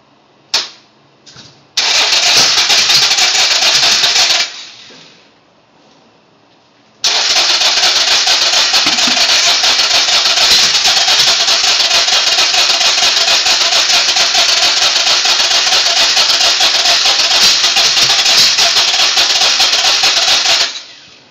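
A Harley Shovelhead motorcycle engine cranks loudly without catching: a few short attempts, a long rapid starter churn, a pause, then another extended rhythmic cranking run lasting many seconds, close and with no speech.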